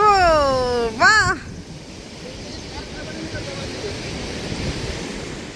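Wind and surf on the sea beach at Bagda and Parikhi, Baleswar, Odisha, a broad low rushing roar of waves and gusts that continues after a high-pitched voice at the start.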